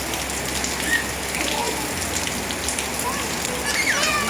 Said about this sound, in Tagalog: Maligo sa ulan.